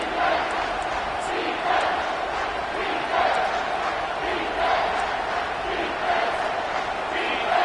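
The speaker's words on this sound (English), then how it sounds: "This crowd knows when to bring it" A football stadium crowd roars and chants in a steady, distant wash of massed voices, rising in swells, with a faint voice over it.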